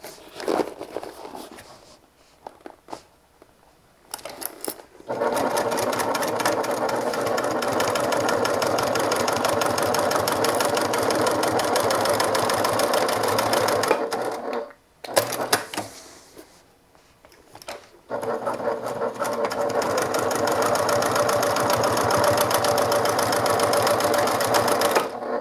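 A sewing machine runs in long continuous bursts, stitching a second line along a bag seam, with a steady buzzing whir that stops briefly around the middle and resumes, close and fairly loud with no talking.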